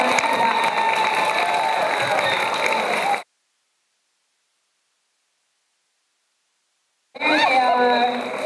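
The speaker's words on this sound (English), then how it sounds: "Can we give the band kids a round of applause again?" Audience applause and cheering for student band and chorus performers at a school spring concert, a dense steady crowd roar for about three seconds, cut off by silence, then resuming loudly near the end.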